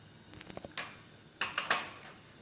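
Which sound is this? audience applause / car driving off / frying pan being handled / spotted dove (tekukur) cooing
frying pan being handled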